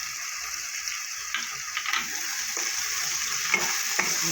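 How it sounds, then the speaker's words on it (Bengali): Egg chowmein with soy sauce and Maggi masala fries in a hot pan, a dense sizzle under repeated stirring and tossing with occasional scrapes of the utensil. "এবার ভালো করে একটু ভেজে নেব"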